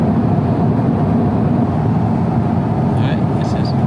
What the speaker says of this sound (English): I didn't speak loudly enough here to overcome the plane noise